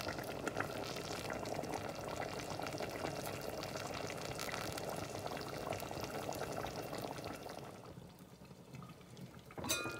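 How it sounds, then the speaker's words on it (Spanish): Stew for rajas tamales simmering in a pot, a steady close bubbling and soft sizzle that continues evenly before easing off slightly near the end, with no talking. "Y vamos a dejar que cocine hasta que sazone por unos 10 minutitos o 15 minutos."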